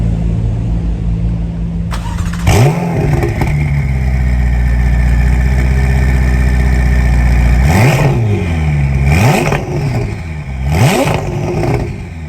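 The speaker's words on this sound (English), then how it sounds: "let's start it up and take a listen to that aftermarket exhaust" A 2017 Ferrari 488 Spider mid-engine supercar with an aftermarket exhaust cranks and fires up loudly, then settles into a rumbling idle broken by three sharp, raspy throttle blips near the end.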